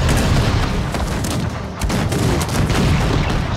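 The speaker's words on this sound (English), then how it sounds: "Stupid cannon." Cannon fire in the strategy game Cossacks 3 during a four-player battle, heard as a dense, continuous roar of booms and crackling gunfire. It stays loud and steady throughout, with no talk.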